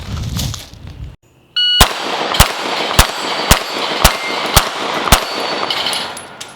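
A Glock 19 pistol fires seven evenly spaced shots at a range, sharp loud cracks roughly half a second apart, preceded by a brief electronic timer beep.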